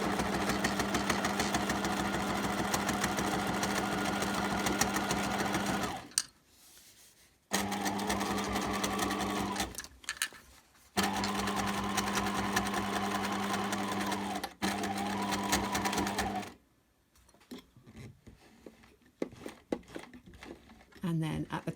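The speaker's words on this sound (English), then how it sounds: "I will leave the needle in, pivot the fabric round, and then just come down with one more line of stitching in a wavy line." A sewing machine stitches a wavy line through fabric for a simple two-zip pouch, running in steady, loud whirring bursts with short pauses as the fabric is pivoted, while a person talks over it.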